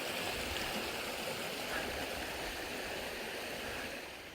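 Creek water at South Mountain State Park in North Carolina runs steadily near a campsite, a continuous broadband rushing and burbling close by, alone with no voices.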